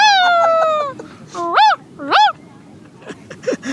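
A child imitates a poor household's dog, voicing a drawn-out whimpering howl followed by two short rising yelps, close and clear over a faint background murmur.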